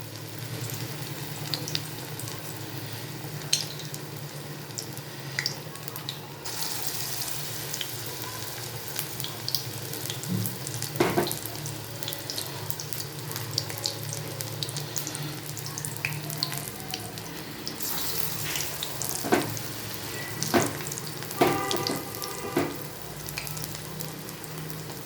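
Balsam flower fritters cook in hot oil, a continuous bubbling sizzle lasting throughout, with occasional sharper crackles and clinks at close range and no one speaking.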